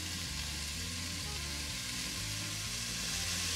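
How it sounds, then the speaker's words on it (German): Chopped onions sautéing in a pot in rendered bacon fat for a wild garlic soup, giving a steady, close sizzle and frying hiss throughout with no talking. "nun unsere Zwiebeln reingetan und auch die werden wir anschmoren"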